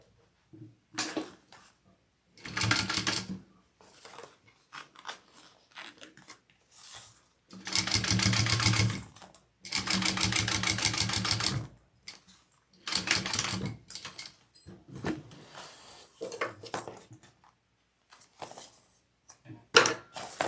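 A sewing machine top stitching a Jasper Sling bag, running close in several bursts of steady rapid whirring, some long and some brief, separated by quiet pauses.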